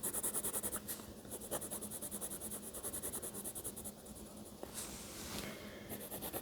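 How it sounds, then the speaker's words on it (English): A colored pencil shades in the roof of a cozy cabin drawing, adding a second layer of color with a steady, soft scratching at close range over a faint background hum. "I'm going to add a second layer of color to the roof."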